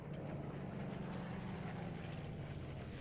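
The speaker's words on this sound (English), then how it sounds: "there's planes constantly buzzing overhead, which is great because you get to hear Rolls-Royce Merlin engines and Spitfires" Rolls-Royce Merlin engines of Spitfires droning overhead in the video game Plane Mechanic Simulator, a steady, dense engine roar that fills the whole few seconds without a break and with no voices.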